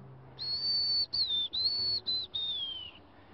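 A whistled imitation of a white-crowned sparrow song: a run of high, pure notes, the last one sliding downward, close and clear.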